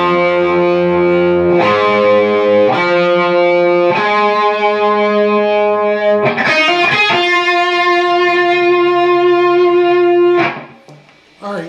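Loud, heavily distorted electric guitar playing a lick without wah, sustained notes stepping downward one by one, close and alone, ending in a short pause and a final pick attack.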